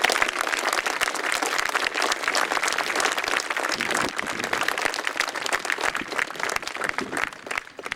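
Sustained applause from a large crowd at a memorial, dense and even throughout, tapering slightly near the end.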